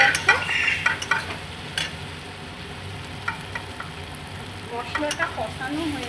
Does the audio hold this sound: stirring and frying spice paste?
yes